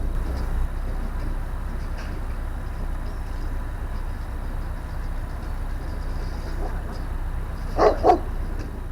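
Two quick dog barks ring out near the end, distant-sounding over a steady low canal boat engine rumble with faint, indistinct voices.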